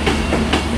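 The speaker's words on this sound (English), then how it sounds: "Virgin train service to London Euston, calling at Stockport, Wilmslow, Crewe and London Euston" Virgin passenger train at Manchester Piccadilly station, loud and close, a continuous heavy rumble and rolling rail noise with faint rhythmic clatter, no talking.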